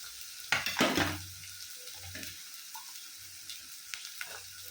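Green chillies tipped into hot oil in a pan for a date pickle, a burst of sizzling and stirring at first that settles into quieter frying with occasional clinks of a spoon, close by with no talk.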